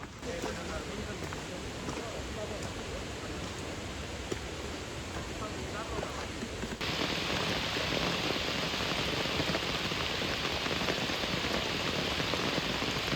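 Monsoon rain pours down steadily during a trek near the Hirve Kurd waterfalls. The dense, even hiss of drops on the surroundings grows louder and brighter about halfway through, with no break.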